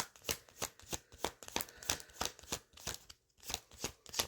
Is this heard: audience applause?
no